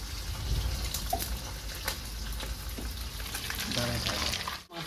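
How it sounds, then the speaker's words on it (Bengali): Pabda fish fry in hot oil with a dense, steady sizzle and crackle that fills the whole stretch. A few faint clicks and pops sit in it, and it drops off sharply near the end. "মাছটা ভাজা হয়ে গেছে, এবার তুলে দেবো আমি।"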